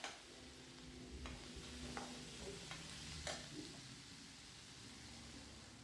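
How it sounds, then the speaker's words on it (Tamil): Onions and tomatoes sautéing in a pan for a Kongu-style country chicken curry, giving a steady, faint sizzle with occasional stirring scrapes and clinks. "இப்போ நல்லா வதக்கி எடுத்துக்கலாம்."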